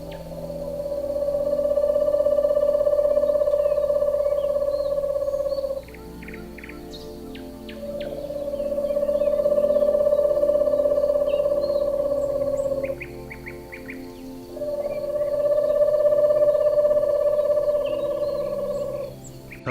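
Three long, steady hooting calls from an owl, each held for several seconds with short gaps between them, loud and close, with no talk.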